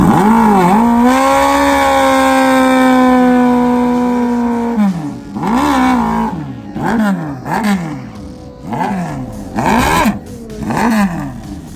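A Suzuki Katana drag bike with 10-to-1 compression and four 34mm Mikuni carburetors holds a loud, sustained high rev, then barks through a series of sharp throttle blips, close and dominant with no talking.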